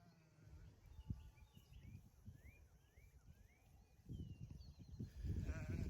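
Sheep bleat a few times in the distance amid quiet outdoor pasture ambience, with birds chirping and rustling and shuffling sounds nearby.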